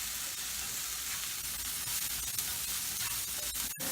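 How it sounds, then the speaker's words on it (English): Chopped onion and asparagus sizzling steadily in a frying pan as they are stirred, a soft, continuous crackling hiss with a faint clatter near the end. "let me give them a stir"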